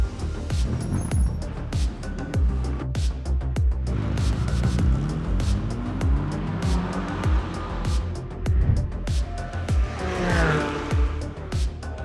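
A CK Racing car pulls out onto the track, its engine revving through rising and falling pitch sweeps with brief tire squeal, loud and close throughout.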